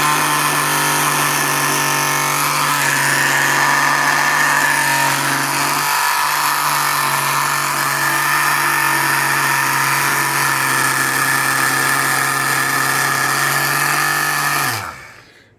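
A small engine in an ITO Japanese wooden toy boat runs loud and close with a steady, high buzzing drone for about fifteen seconds, then cuts out abruptly.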